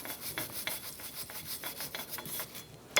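Rapid back-and-forth wire brush scrubbing rust off a Chrysler 300 brake rotor, a steady raspy rhythm of short strokes, close and fairly quiet, with no talking.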